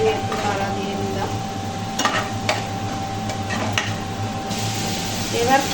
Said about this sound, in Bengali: একটু নাড়া দিয়ে নিলাম।